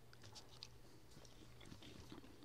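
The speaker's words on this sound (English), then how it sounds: "That was the last of the corn dogs, so you don't have to listen to me chew anymore." Quiet, close chewing and biting on corn dogs, with a few soft crunchy bites scattered over a low steady background and no speech.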